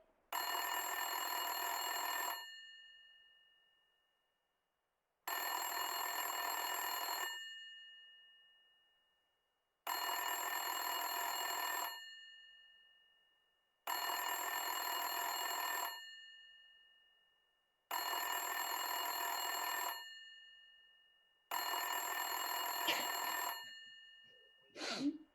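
Old-style telephone bell rings in six evenly spaced bursts of about two seconds each, separated by silence, loud and close, as a radio drama sound effect; a brief click ends the last ring.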